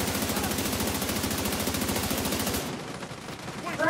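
Rapid automatic gunfire from The Division 2 video game: a fast, steady burst of evenly spaced shots that runs loud for over two seconds before cutting off into quieter game ambience.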